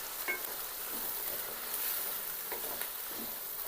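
Tomatoes frying in a pan for fish curry give a steady, fairly quiet sizzle, with a few soft stirring scrapes coming through and no talking.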